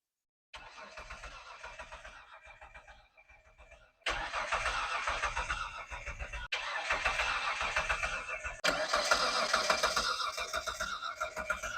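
The twin-turbo engine of a Mitsubishi Legnum wagon cranks in four separate bursts. Each burst is a loud, even starter whir that does not catch, with brief silences in between.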